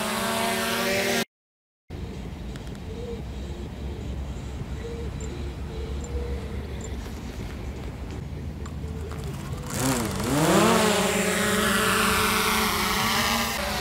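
A DJI Mavic Air 2 drone hovering in a park, its propellers giving a steady whirring hum throughout, then a rising, shifting whine as it moves near the end.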